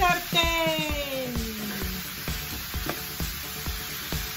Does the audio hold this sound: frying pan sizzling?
yes